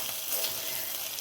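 Fish fries in a pan with a steady, close, loud sizzle and no voices.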